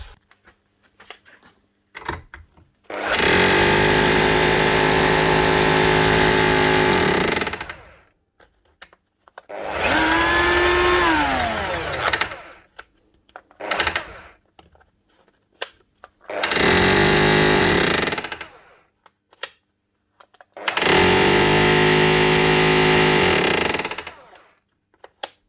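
A repaired Makita, Bosch or Ryobi hammer drill runs in four loud bursts of several seconds each, a harsh rattling hammering whine with brief spin-down between runs, close by.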